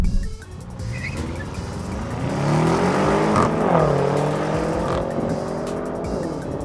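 A 2016 Audi RS7 Performance launches and accelerates hard, its engine note climbing steadily through the revs with a brief shift, loud and close with a tire squeal at the start.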